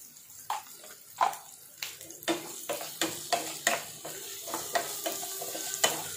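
Onions and tomatoes frying in a pan with repeated stirring strokes, a soft sizzle under evenly spaced scraping spoon clicks, fairly quiet and close, no talking.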